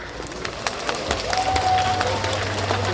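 An audience at the Chunhyang festival beauty pageant claps for a contestant's introduction, a brief, moderate patter of applause with crowd murmur underneath and a short tone in the background.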